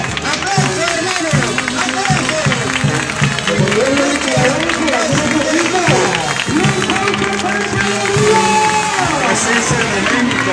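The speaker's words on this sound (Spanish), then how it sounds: "¡Aplausos, hermano!" A crowd at an aquatic pilgrimage claps and cheers loudly and continuously, with voices, shouts and music-like tones blending into a dense, lively roar.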